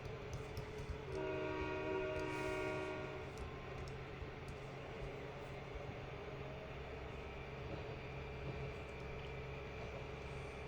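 A train in the Trainz 2022 railway simulator sounds its horn in a sustained multi-tone blast, then keeps rumbling along at a steady low drone.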